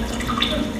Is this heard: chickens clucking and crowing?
no